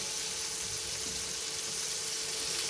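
Malvani kolambi, prawns, sauté and sizzle in oil in a pan with a steady, dense frying hiss and occasional stirring, no voices.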